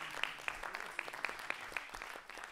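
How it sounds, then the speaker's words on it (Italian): Light, scattered clapping from a small jazz concert audience, moderately distant and fairly faint, with a handful of sharper individual claps standing out over a soft room murmur. "dedicherei un applauso"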